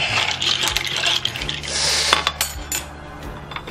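A spoon clinks and scrapes against glass while orange juice and club soda are stirred together, a busy run of light metallic tinkling and rattling at close range.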